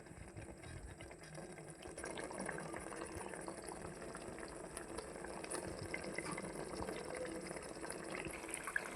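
A pot of bommidayi fish curry simmers on the stove, its steady, close bubbling and gentle gurgling continuing without pause.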